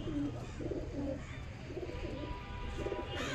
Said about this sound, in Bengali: মাদা পায়রা আপনাদেরকে শখ করে দেখালাম।